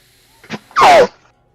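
One loud, close sneeze: a short intake of breath, then a sharp explosive burst with a falling, voiced squeal that trails off quickly into quiet.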